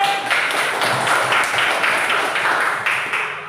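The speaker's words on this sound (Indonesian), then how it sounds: "Yuk, tepuk tangan untuk kelompok C." Classroom group clapping for a student team called to the front, a dense steady patter of many hands at close range throughout, with no voices over it.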